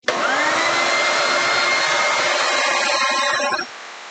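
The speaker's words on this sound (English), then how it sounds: "you hit it with a vacuum" A vacuum cleaner runs loud and close while cleaning out an Aillio Bullet coffee roaster, giving a steady whining roar that cuts off sharply near the end, leaving a quieter tail.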